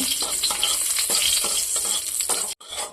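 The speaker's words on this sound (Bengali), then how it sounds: "আবারও একটু তেল তিনটে শুকনো লঙ্কা লঙ্কাগুলো একটু ভেজে নেব" Three dried red chillies fry in hot oil in a kadai, giving a loud, steady crackling sizzle with stirring scrapes, then a brief drop to silence near the end.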